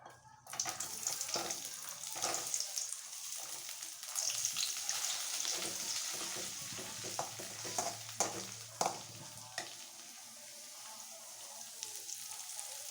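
Onion pieces fry in a pan of ghee and oil, a steady hiss broken by scraping stir strokes, fairly close and continuous throughout with no talk.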